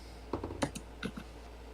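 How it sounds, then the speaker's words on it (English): Computer keyboard typing close by: a handful of distinct clicky keystrokes in an uneven rhythm, with brief gaps between them and no voices. "I'm typing."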